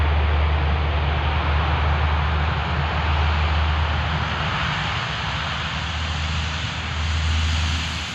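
A Hercules propeller aircraft roars steadily during takeoff with a loud, continuous engine drone and a low propeller hum, heard alone with no talking.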